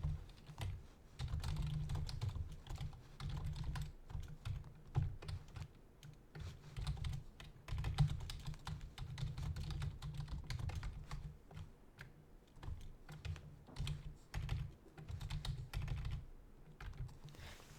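Typing on a computer keyboard, with quick irregular bursts of key clicks continuing steadily throughout, close and moderately quiet, with no talking.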